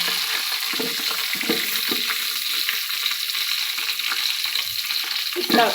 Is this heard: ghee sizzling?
yes